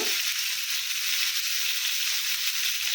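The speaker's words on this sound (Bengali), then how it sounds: "এই করলা ভেজে নিচ্ছি" Bitter gourd (karela) frying in a pan, a constant close hiss of sizzling oil with little change throughout.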